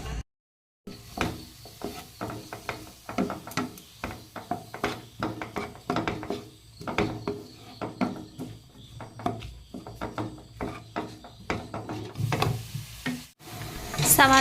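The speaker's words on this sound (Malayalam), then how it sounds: "ബട്ടർ മെൽറ്റായ ശേഷം അതിലേക്ക് സവാള ഇട്ട് നന്നായിട്ടൊന്ന് വഴറ്റിയെടുക്കാം." Sliced onions sautéing in melted butter in a pan while making masala macaroni, with a spoon scraping and knocking against the pan in an uneven rhythm over a soft, steady sizzle.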